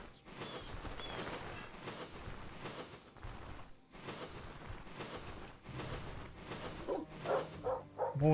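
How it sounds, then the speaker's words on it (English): Dogs barking in the game Stoneshard, a dense run of repeated barks and yips layered over constant game noise and music, fairly loud throughout with sharper bursts near the end. "More dogs."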